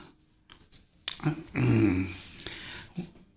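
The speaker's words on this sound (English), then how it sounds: "Oh, stop it, dog. Can you guys hear him growling?" A dog growls close by indoors, a low rumbling grumble that swells through the middle and trails off, with a few short breathy noises around it and no talking.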